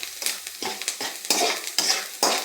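Spices and lentils stir-frying to golden brown in a pan after salt is added, with repeated close scraping strokes of a spoon over a steady sizzle, no voices.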